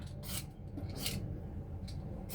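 A whole santol fruit is peeled by hand at a kitchen counter, giving soft, faint rasping scrapes in short separate strokes, close up and with no talking.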